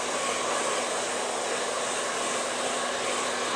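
A blow dryer on low heat and high air runs steadily with a loud, even rush of air and a faint hum underneath, with no change in tone throughout.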